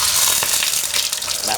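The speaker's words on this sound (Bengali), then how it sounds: "তো ডিমটা এখন ভেজে নেব" An egg frying in a pan for an omelette, giving a loud, steady, close sizzle with crackling spits throughout and no voices.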